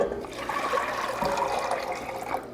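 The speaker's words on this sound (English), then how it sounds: "Now I'm going to drain the water out of here and use the newly hydrated beans in the recipe" Water drains from a pot of soaked, rehydrated dried beans being prepared for a from-scratch chicken tortilla soup, giving a steady, close rushing pour with some splashing and no talk.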